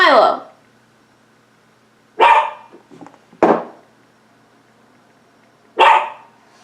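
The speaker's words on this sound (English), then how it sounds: "Can you stop barking?" Four loud, close barks from a dog indoors, each a sharp single burst separated by pauses of one to two seconds, with faint small noises in between and no talking.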